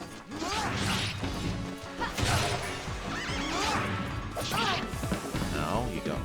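Horses neighing and whinnying repeatedly amid crashing and clattering effects in the GameCube game Lost Kingdoms 2, with hooves and impacts mixed in a busy, loud scene.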